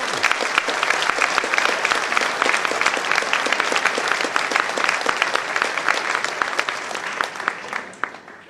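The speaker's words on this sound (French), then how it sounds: "Merci d'applaudir" Loud, sustained crowd applause for a table tennis player being introduced at a club match, many hands clapping steadily, with a few sharp claps standing out near the end.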